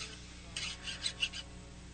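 A small metal file scrapes excess solder on a homemade flashlight e‑cig mod, giving a handful of short, close rasping strokes in a quiet room.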